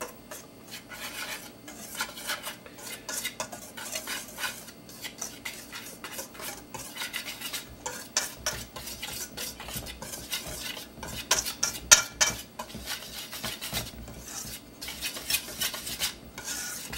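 Lemon square ingredients being stirred together in a bowl, a steady scraping and clinking of a utensil against the bowl that runs for the whole stretch with no talking.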